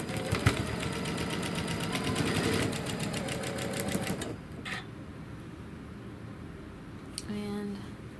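A sewing machine stitches a flannel rag quilt, making a fast, steady mechanical chatter at close range for about four seconds before stopping. Later there are a few clicks and a brief talking voice.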